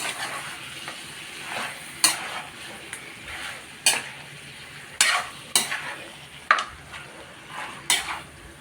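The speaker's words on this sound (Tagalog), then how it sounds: "Halo-haloon tanay." A spoon stirs ribs and tomatoes in a cooking pot, with scraping and clinking strikes at irregular intervals over a steady sizzle of frying; no talk is heard.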